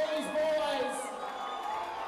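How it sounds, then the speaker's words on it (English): Crowd noise at a corporate boxing main event at the NEX in Newcastle, a steady roar with whoops rising and falling under a commentator's voice. "Crowd really making plenty of noise here at the NEX as we approach the end of this main event"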